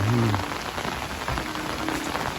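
Light drizzle falling steadily on surfaces outdoors, a soft, even patter of fine drops with no talking.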